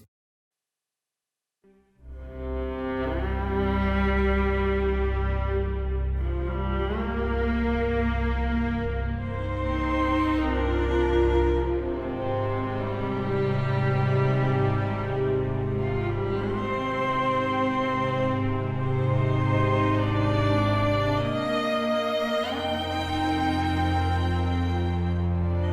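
Atmospheric yet neutral basic music layer from the adaptive soundtrack of the video game Unexplored 2, with sustained low drones and layered harmonic tones entering after a brief silence and holding at steady loudness throughout.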